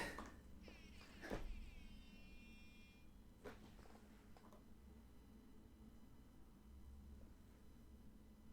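A cat gives a couple of faint, distant meows, drifting and wavering in pitch over a soft room hum, followed by a few light knocks.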